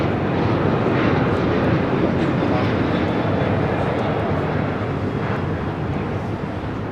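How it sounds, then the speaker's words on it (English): A Southwest Airlines Boeing 737-800 takes off from Los Angeles International Airport, a loud, continuous broadband jet roar that holds steady and eases slightly toward the end. "This is Southwest Airlines 1998 taking off to Houston Hobby on a 737-800"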